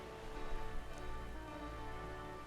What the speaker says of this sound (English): it's raining like fuck